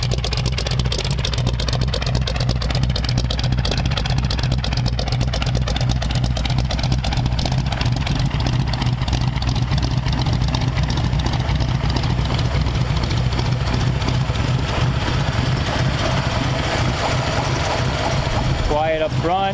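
A 1932 Ford Tudor barn find idles steadily through its custom-built exhaust and lumpy aftermarket camshaft, a loud, low, continuous rumble running nearly twenty seconds with talk mixed in.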